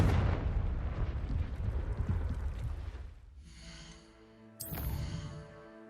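A fiery Confringo spell explosion erupts in Hogwarts Legacy with a heavy, rumbling blast that lasts several seconds and decays. Tonal magical chimes then ring out, ending in a bright shimmering burst.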